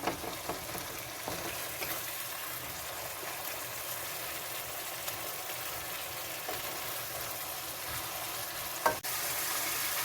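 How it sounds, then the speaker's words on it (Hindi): Mutton brain masala fries with yogurt in a pan, a steady moderate bubbling sizzle with light stirring clatter, close and continuous, a sharp utensil knock near the end. "अब हम इसको 4 से 5 मिनट जो है इस मसाले को हम दही के साथ फ्राई करेंगे।"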